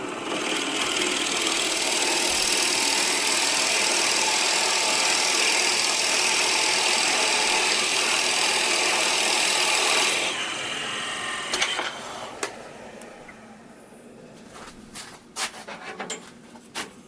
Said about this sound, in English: with a 3/4 inch Forstner bit, I'm now going to go ahead and drill down